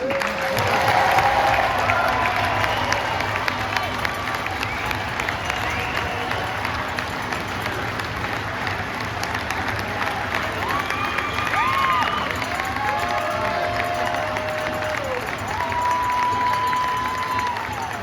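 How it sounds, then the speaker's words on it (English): Hockey fans in an arena cheer and applaud loudly at a jersey retirement ceremony, a steady roar of clapping and shouting with rising whistles and horn-like tones throughout. "Big cheer from the fans here."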